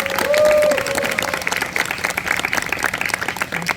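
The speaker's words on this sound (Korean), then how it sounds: "우리 소리꾼 이정희님께 다시 한번 큰 박수 부탁드립니다." Audience at an outdoor traditional Korean music concert applauds a pansori singer, a loud dense burst of clapping, with a voice briefly calling out at the start.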